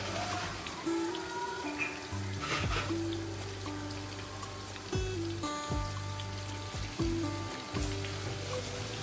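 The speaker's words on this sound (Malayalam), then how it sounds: "മീൻ പൊരിക്കാൻ ഒരു പാത്രം വെച്ച് അതിലേക്ക് കുറച്ച് എണ്ണ ഒഴിച്ചെടുക്കാം" Fish fries in hot oil in a pan, a steady crackling sizzle with scattered pops and clinks of a utensil against the pan, and a low hum running throughout.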